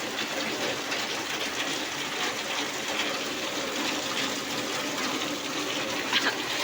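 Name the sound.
rain falling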